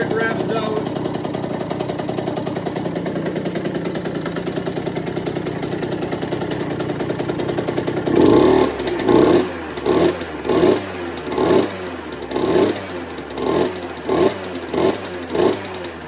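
A Cobra CX50 motorcycle engine on its stand with the choke on idles steadily, then about halfway through begins revving in repeated loud bursts, each rising and falling in a quick rhythm, close by.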